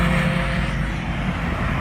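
An Ariel Atom accelerates hard past on a race track during a track day, a loud, close engine roar sustained across the whole moment.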